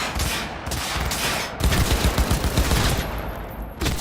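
Rapid bursts of video game gunfire from Cyberpunk 2077, an inaccurate gun firing in dense, loud volleys that stop briefly and resume, with sharp cracks layered over a booming low end.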